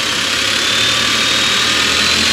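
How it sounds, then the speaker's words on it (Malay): A 2020 Nissan Almera with a 1.0-liter turbo three-cylinder engine idles steadily and close by, a constant dense mechanical hum with no clear rise in revs across the short stretch. "Sekejap saya rev sekat, awak tengok bila saya dah rev macam mana rupa dia."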